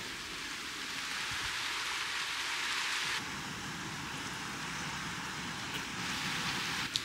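Steady rain patters and hisses across surfaces, constant and fairly close, with a faint tap near the end.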